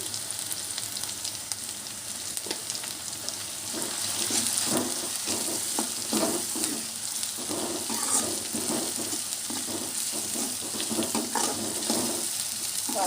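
Ginger sizzling in hot oil in a pan while amaranth fry is being cooked: a steady, close, bright hiss of frying with occasional stirring scrapes, continuous throughout with no voices.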